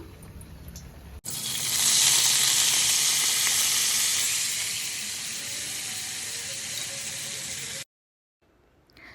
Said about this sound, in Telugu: ఫస్ట్ నూనె నూనె కాగిన తర్వాత జీలకర్ర ఆవాలు నార్మల్గా ఎట్లా పోపు వేసుకుంటామో అట్లనే వేసేసుకోవాలి